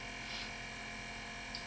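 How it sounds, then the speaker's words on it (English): An electric fan running in a room, a steady low hum with a faint whirring tone, constant and unchanging throughout, with no voices. "Like right now I have a fan on, and I don't even know if the mic is picking up the sound"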